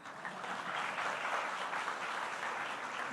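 An audience at a poetry conversation applauds in a steady, dense wash of clapping that stays loud and even from start to finish.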